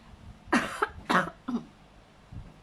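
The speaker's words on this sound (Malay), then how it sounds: "Batuk pula." Two or three close coughs in a quick cluster, dry and raspy, followed by a faint throat sound, with no talking around them.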